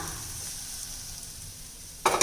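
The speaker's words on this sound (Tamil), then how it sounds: "கத்திரிக்காய் சேர்த்து ஒரு அஞ்சு நிமிஷத்துக்கு மேலேயே இந்த மாதிரி நல்லா வதக்கிக்கிட்டேங்க" Steady frying sizzle of brinjal sautéing in a pan, with a soft continuous hiss and low stirring noises, ending in a louder burst of crackling sizzle.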